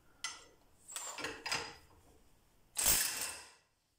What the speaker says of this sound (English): Now we see that this gun will be able to loosen it.